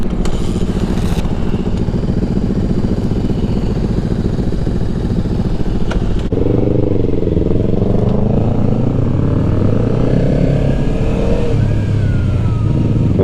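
A Mini Rip-a-twin racing kart engine on an R3 kart track drones loudly and close, then its revs climb and fall in rising, wavering pulls as it shifts through the gears; no voices.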